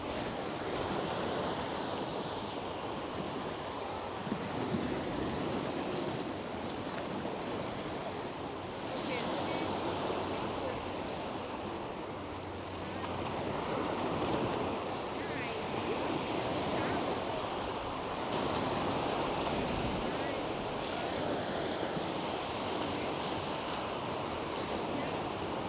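Ocean waves and surf, a continuous broad washing roar with gentle swells over nearly half a minute, plus wind rushing across the microphone.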